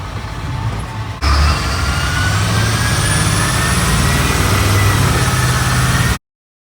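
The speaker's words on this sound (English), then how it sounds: "She got a little miss in the motor." An old converted school bus engine idles with a slight misfire, starting quieter and then jumping to a steady, loud, close rumble that runs until it cuts out abruptly near the end.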